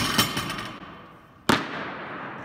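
An empty Rogue 2.0 barbell dropped onto a gym floor lands with a sharp metallic crash and ringing decay, following a softer series of clanks as a small 5 kg plate is handled and slid off.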